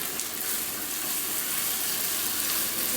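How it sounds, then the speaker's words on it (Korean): Gochujang-marinated pork stir-frying in a pan over medium heat, a steady, loud sizzle and crackle that holds throughout with no talking. "고기가 다 익을 정도로 볶아주시고요"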